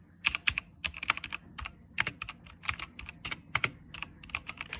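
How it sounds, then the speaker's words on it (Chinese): Someone types on a computer keyboard in a quiet room, producing crisp irregular key clicks in short bursts with brief pauses and no voices. "键盘的声音"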